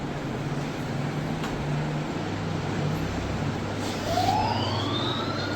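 A fire engine siren wails in from a distance, its tone rising over steady traffic rumble.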